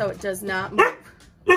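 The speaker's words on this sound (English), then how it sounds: "And I'm sorry about the dog." A dog barks several times in quick, close, loud yips while a person talks over it.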